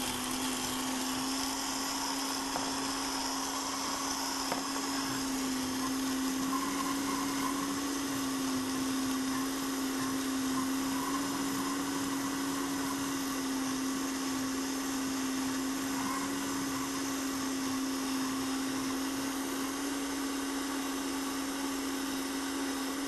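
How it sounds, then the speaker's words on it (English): A blender runs steadily for over twenty seconds, straining as it purées a thick dairy-free cheese mixture before agar is added. The motor's loud, even whine holds close and unbroken throughout. "So let's blend this together, and then we'll add the agar afterwards."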